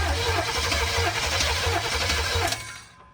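A new starter motor cranks the engine of a 1969 Chevy Blazer in steady rhythmic pulses, loud and close, without firing, then cuts off abruptly near the end.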